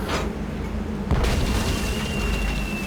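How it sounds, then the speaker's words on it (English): A Hungarian easy-action cannon fires in the video game Tales of Monkey Island: one loud boom about a second in, followed by a sustained rumble and a thin whistling tone as the cannonball flies. "it's one of those spiffy new Hungarian easy-action cannons I've been begging Elaine to let me buy"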